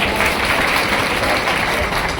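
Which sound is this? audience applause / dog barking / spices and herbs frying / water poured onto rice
audience applause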